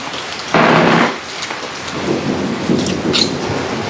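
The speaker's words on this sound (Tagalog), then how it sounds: "Mas may kulog-kulog pa." Rumbling thunder during heavy rain at a home kitchen, a loud crack-like burst followed by lower rolling rumbles over a steady hiss of rain on surfaces, without any talk.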